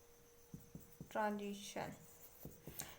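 Notes are written on a board during a chemistry lesson, producing short scratchy strokes and a squeaky drawn line, while a teacher speaks quietly in the background.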